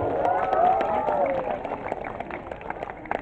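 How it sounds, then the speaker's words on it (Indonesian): Students at a madrasa orientation event clap in a room, a brief scattered burst of applause that thins out, with voices and crowd murmur mixed in. "Tepuk tangan"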